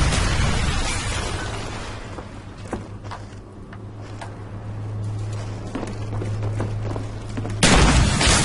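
Shotgun fire in Call of Duty: Black Ops, several booming blasts spaced over a few seconds amid game effects, with a loud burst at the end.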